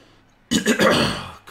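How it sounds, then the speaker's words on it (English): Someone commentating a Blood Bowl 2 match breaks into a sudden, harsh fit of coughing, close and loud, lasting about a second after near silence. "Coughing me guts out now after that."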